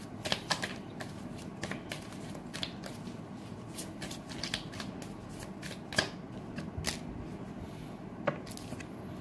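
Tarot cards are shuffled close up over about nine seconds, giving a run of crisp riffling snaps and flicks, some louder than others, against a quiet background with no talking.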